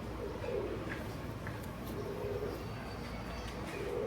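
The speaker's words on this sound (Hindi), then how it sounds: "ये इस कबूतर की नोट है।" A pigeon coos three times in low, soft rolling calls about a second and a half apart, fairly close over a steady background hiss.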